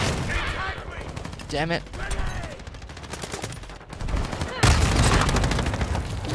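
Rapid bursts of automatic gunfire and single shots in a Modern Warfare 2 multiplayer match, loud and close, with a short lull in the middle and a player briefly cursing over the shooting.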